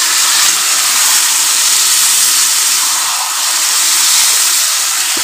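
Chicken hits a hot pan with a loud, steady, broad hiss of steam and sizzle that holds without a break, close and alone.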